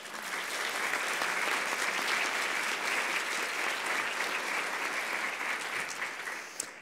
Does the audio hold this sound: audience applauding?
yes